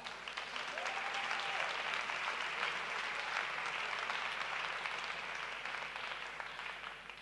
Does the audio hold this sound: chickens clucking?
no